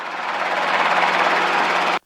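Robinson R22 helicopter running on a runway at Santa Rosa, a steady loud rotor and engine drone close by, holding level for two seconds before cutting off abruptly.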